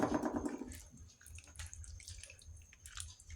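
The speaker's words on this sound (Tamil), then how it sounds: "நம்ம தேவைக்கேற்ப கொஞ்சம் தண்ணீரும் ஊற்றிடலாம்." Water is poured into a pot of kuzhambu with chopped raw mango and drumstick, a short liquid splash up close at first. Soft drips and sloshing follow over a few seconds.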